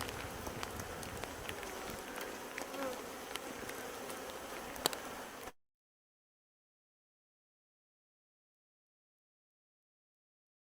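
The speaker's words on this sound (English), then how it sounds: "unusual to see the bees flying in the rain" A steady buzzing hum of many honey bees flying close around a hive in the rain, with soft rain patter behind, ending abruptly in silence halfway through.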